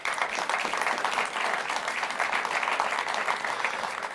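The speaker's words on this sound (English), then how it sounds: "Can we give a round of applause for yourself?" Audience in a room at a women-in-aviation gathering applauds steadily, a dense even wash of clapping held at constant loudness throughout.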